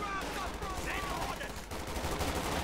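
An MG34 machine gun crew fires in Company of Heroes 2 amid a busy battle, steady rattling bursts sitting under continuous battlefield noise and a commentator talking.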